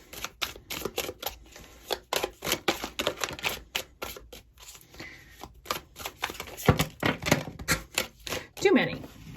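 Tarot cards being shuffled during a weekly reading, a steady run of crisp riffling and flicking bursts in quick rhythm, close and moderately loud, with a brief voice or squeak near the end.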